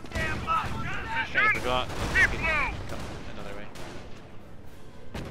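Machine gun fire and battle noise in the Company of Heroes video game, with sustained crackling bursts behind overlapping voices and radio-style unit callouts, tapering off in the final seconds.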